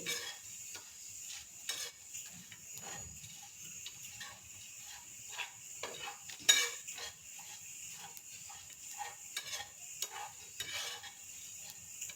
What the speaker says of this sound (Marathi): आता हे खोबरं टाकून द्यायचं आणि थोडं थोडं आपण हलकं भाजून घेऊ